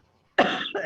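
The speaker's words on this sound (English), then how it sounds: "because I keep having this cough." A single close, sharp cough with a short second burst follows a moment of near silence.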